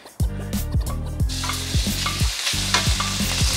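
Marinated beef hits smoking-hot oil for a flash fry in a Cantonese beef ginger kuey teow, a sudden loud sizzle followed by repeated scraping stir strokes of the utensil against the pan.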